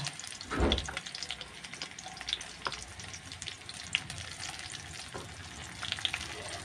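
Onions sautéing in a pan for a yellowfin fish steak dish, a soft continuous sizzle and crackle with occasional spoon scrapes and light clicks, fairly quiet and without speech.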